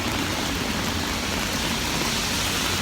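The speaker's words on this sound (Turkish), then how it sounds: "araba ve yağmur sesleri" Steady heavy rain hisses without pause, a dense wash of noise with traffic blended into it.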